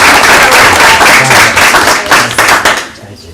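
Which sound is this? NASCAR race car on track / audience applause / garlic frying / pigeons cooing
audience applause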